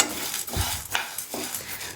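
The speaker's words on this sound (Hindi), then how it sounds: "अब इसको चलाते हुए करीब 2 मिनट तक भून लेना है" Dal lentils stirred and dry-roasted in a pan, a spoon scraping and rattling the grains in a few uneven strokes with a light dry sizzle, close and alone.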